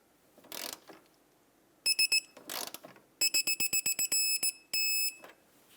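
A ratchet with a 17 mm socket tightens the castle nut on an upper control arm of a 2008-2012 Honda Accord, giving quick runs of sharp clicks between short rasping bursts, with several bright electronic beeps mixed in.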